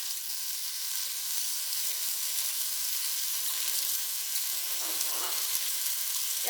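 Bacon frying in a pan while making a spaghetti sauce, giving a steady, dense sizzle that stays even and fairly loud throughout, with a few brief crackling flare-ups near the end.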